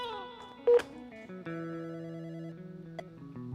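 A telephone rings into a live call-in television music show, sounding as steady electronic tones that hold and shift pitch, with a brief louder burst near the start and faint talk beneath.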